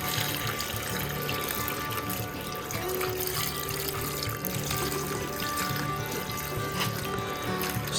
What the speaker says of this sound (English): About to rinse out the original batch and see what we got.